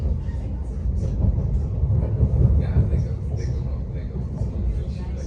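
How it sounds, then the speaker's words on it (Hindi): Rumbling interior of a train travelling from Amsterdam Centraal toward the city centre, a steady low roar throughout with faint clatter. "ट्रेन एम्स्टर्डम सी से अभी सिटी सेंटर की तरफ जा रही है"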